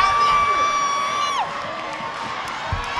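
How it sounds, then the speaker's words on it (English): A high school basketball crowd cheers and shouts after a dunk in a gym, loud at first with sustained whistle-like tones, then easing into a softer murmur. "And the crowd goes wild."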